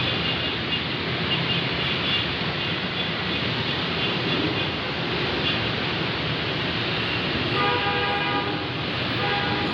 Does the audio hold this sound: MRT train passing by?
yes